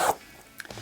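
Salomon Speedcross 5 quick laces are pulled down through the lace lock, giving a short, close zipping rasp in the middle of a quiet moment with a faint background hum.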